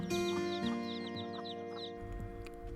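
A chicken clucks softly in short, quiet bursts over a steady tonal hum, with faint chirps mixed in.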